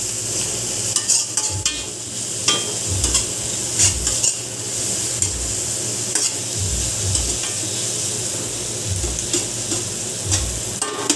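Tomatoes sautéing in a pan for tuna jaw in coconut milk, a dense steady sizzle with frequent scraping and clinking of a utensil stirring against the pan.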